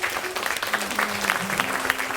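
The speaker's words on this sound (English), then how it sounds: "Give him a round of applause." An audience applauds during a live Appalachian swing concert at an opera house, with steady, dense clapping throughout and scattered voices in the crowd.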